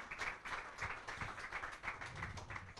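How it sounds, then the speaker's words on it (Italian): An audience applauds at the Mondo Futsal Day event, a steady, dense patter of many hands that sounds fairly faint and distant, with no voices over it. "Stefano Scala, un applauso per lui."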